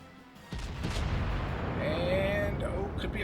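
Naval artillery from a World of Warships battle fires in a heavy boom about half a second in, followed by sustained rumbling and whistling shell noise.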